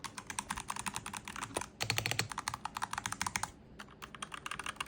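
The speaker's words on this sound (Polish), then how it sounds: "Mogę pokazać Wam, jak moja wcześniejsza klawiatura brzmiała." Rapid, steady typing on a gaming computer keyboard, a dense run of crisp key clicks and clacks with brief pauses, close up and with no voices.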